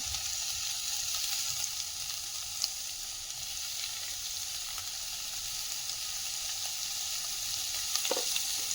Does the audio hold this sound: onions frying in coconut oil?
yes